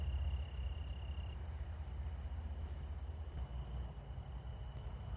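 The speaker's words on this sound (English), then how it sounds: "Here's some grasshoppers just chilling." Grasshoppers chirping outdoors among goldenrod: a steady, faint insect buzz over a constant low outdoor rumble, with no voices.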